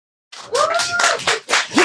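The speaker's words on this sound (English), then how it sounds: "Y'all not gonna clap?" Brief burst of clapping from a small audience at an entrepreneurs' meetup, beginning abruptly after a moment of silence, with a voice calling out over the claps.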